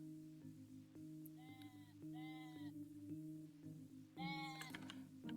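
Sheep in the Equilinox video game give several short, wavering bleats in bursts over a steady electronic music bed, moderately loud and close.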